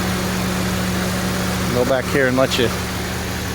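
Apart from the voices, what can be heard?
old car engine idling, exhaust, after motor oil flush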